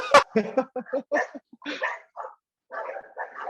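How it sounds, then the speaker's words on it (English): Several dogs barking in sharp, excited bursts at home after a postman's visit, loud and close, with a few yips between barks and a voice speaking over them. "Oh, my dogs are getting mental."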